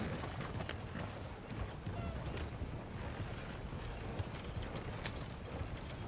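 Horse ridden in the video game Red Dead Redemption, steady hoof clip-clop under a continuous outdoor and wind wash, moderately loud, with no talk over it.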